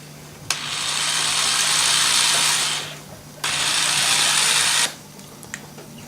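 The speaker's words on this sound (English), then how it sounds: "we're going to drill a little hole into the cap there from the underside" A power drill bores a small hole into the underside of a cap in two sustained bursts, the first about two seconds long and the second slightly shorter, with a short pause between. Close and fairly loud.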